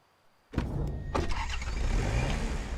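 A car engine starting during a driving challenge in the hunting game Way of the Hunter: a quiet moment, then an abrupt crank and catch, a second surge, and a steady, close running engine.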